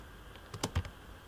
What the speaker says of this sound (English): then I will type here